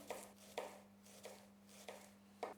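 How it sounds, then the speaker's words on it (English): A knife chops fresh spring onion finely on a board, five crisp evenly spaced cuts close up over a faint steady hum. "I love some fresh spring onion just on the top. So I want to cut this really fine"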